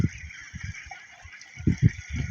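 A flock of about 150 ducks, around 45 days old, raised in an open field, lets out short nasal honking calls that come in quick bursts, fairly close and loud.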